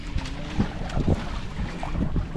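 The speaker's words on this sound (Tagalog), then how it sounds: "Kaso sumimoy na naman ang hangin." Wind gusting over the sea heard from a boat during a northeast monsoon: buffeting, uneven wind noise on the microphone with soft rushes of water and occasional thumps, moderately loud and without voices.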